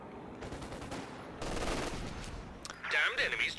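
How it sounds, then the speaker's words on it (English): A Land Mattress rocket barrage hits in a World War II strategy game, with rumbling explosions and crackling bursts running continuously, building in intensity, then ending in a sharp, bright blast and debris. "there's that land mattress. So expect to see a lot of explosions and dirt coming up"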